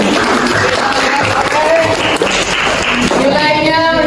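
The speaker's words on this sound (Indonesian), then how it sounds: "tepuk tangan" Clapping at a classroom quiz game, loud and close, with voices talking over the hands throughout.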